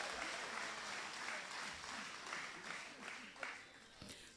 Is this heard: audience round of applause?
yes